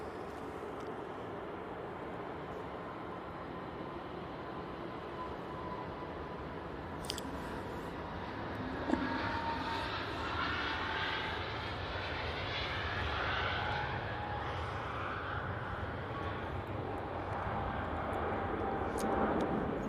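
easyJet Airbus A320neo rolling for takeoff at Manchester Airport, a distant engine roar that swells steadily toward the end, with a couple of brief clicks along the way.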